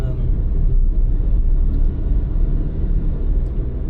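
Inside a moving Mazda car on a road in Japan, a low, steady interior rumble of tyres and engine, loud and continuous with no talking.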